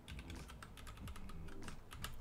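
Rapid typing on a computer keyboard, a dense run of close key clicks that fills the whole stretch with no pause and no talking.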